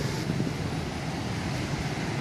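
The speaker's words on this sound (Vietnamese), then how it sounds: "bây giờ gió hiu hiu" A gentle sea breeze blows along the Vung Tau seafront, heard as a steady, soft, rushing wind noise that continues unbroken and without talk.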